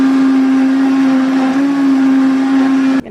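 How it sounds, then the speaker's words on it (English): An electric blender purees an apple mixture, a loud steady whir at a constant pitch that runs close and alone for about three seconds before cutting off abruptly. "I'm just gonna put it in the blender."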